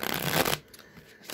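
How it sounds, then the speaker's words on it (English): Rider-Waite tarot cards being shuffled, a dense papery riffle that runs loud for about half a second and then falls away to near quiet. "I'm going to shuffle a few times and then draw 3 of the Rider-Waite cards"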